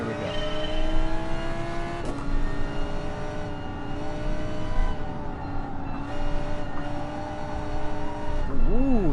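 An Audi GT3 race car engine in Gran Turismo Sport drones loud and steady, its pitch climbing and dropping through gear changes, with a sharp rev rise near the end.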